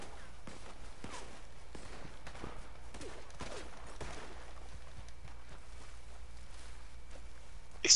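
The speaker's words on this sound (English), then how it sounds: "No, dude, I'm shooting in the air." Gunfire shot into the air as warning shots in Red Dead Redemption 2, a series of sharp cracks spread across the stretch among faint footstep-like clatter, moderately loud with no talking.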